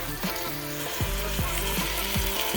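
Two pieces of meat sizzle and fry steadily in a pot for a penne pasta lasagna, a continuous close crackle with a few brief clanks and scrapes of stirring, no voices.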